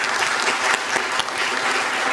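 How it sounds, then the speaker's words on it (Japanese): A business delegation audience visiting OIST in Okinawa breaks into brisk, dense applause after a panel discussion, a steady close wash of many clapping hands with no gaps. "皆さん拍手で。"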